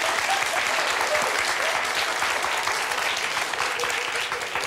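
Studio audience applause on a television talk show, a dense, steady wash of clapping that stays loud and even throughout, with no voices standing out.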